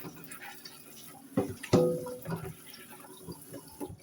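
Running tap water splashes steadily into a sink, with a few sharper splashes and clatters as ground beef is rinsed under the stream.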